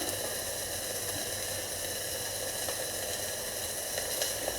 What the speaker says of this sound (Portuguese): o hambúrguer continua o processo da fritura